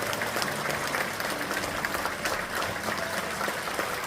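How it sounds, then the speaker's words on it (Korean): Sustained clapping from a church congregation during a pastor's installation thanksgiving service, dense and even throughout, heard from a moderate distance with faint murmuring beneath. "박수로 축하해 주시기 바랍니다."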